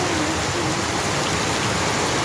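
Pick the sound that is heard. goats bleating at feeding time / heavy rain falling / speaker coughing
heavy rain falling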